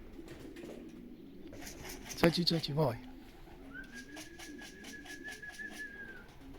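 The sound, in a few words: racing pigeons cooing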